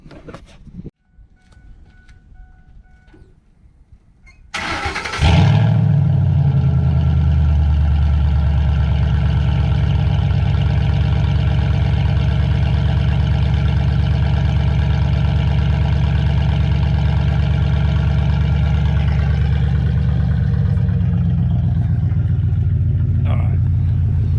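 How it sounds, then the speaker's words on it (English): A Ford F-150 truck engine cranks and catches, then settles into a loud, steady idle close by with a low rumble that continues unchanged to the end, after a short stretch of quieter handling noises. "I'll start the truck up and get them to turn on for you"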